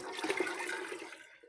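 Water pours into a dye pan of dandelion dye bath, a brief close splashing gush that tapers off quickly.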